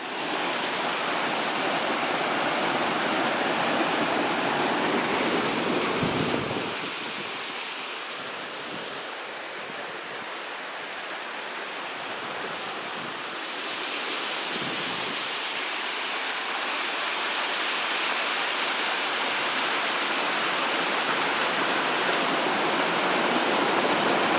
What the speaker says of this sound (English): Oh, I love water.